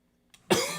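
A single short, sharp cough from a man, close and dry, following a moment of silence with a faint breath before it.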